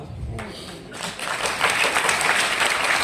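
A seminar audience breaks into applause, starting with faint scattered claps before swelling into fuller, steady clapping across the room, with a voice heard briefly at the start.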